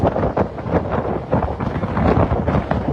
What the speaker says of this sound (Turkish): Çok rüzgar var tabii.